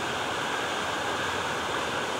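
Creek water rushes continuously and loudly beside a mine drainage tunnel in cold air, a dense steady wash of flowing water close to the microphone with no voices.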